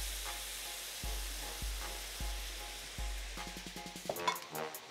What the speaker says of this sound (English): Caramelize the shallot, make sure to stir them, make sure they don't burn.